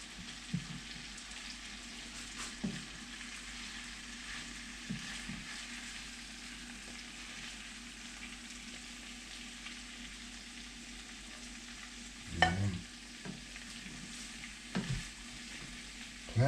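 A plant-based stir fry sizzles steadily in a pan with a soft, even crackle, and occasional scrapes and knocks of stirring come through, with one louder clatter near the end.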